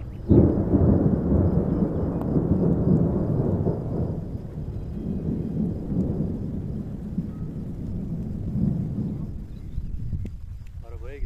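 Loud, rolling thunder rumbles continuously through spring rain at a campsite, booming strongest at the start and ebbing and swelling again toward the end.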